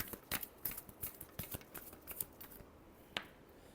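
A deck of tarot cards is shuffled close up, soft and quiet, with a rapid series of papery flicks and slaps in uneven bursts.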